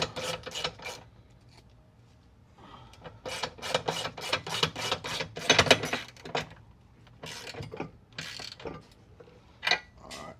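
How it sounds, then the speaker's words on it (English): A hand ratchet clicks in quick irregular bursts while tightening a 17 mm bolt on a golf cart, close and fairly faint, with short pauses between strokes. "I'm gonna tighten this back bolt up. It's a 17 millimeter."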